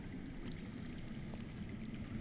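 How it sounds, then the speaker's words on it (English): Continuous soft rushing of underground water in a Game of Thrones video game, a steady low wash like a hidden stream, faint and even throughout with no talk. "I hear water. From underground."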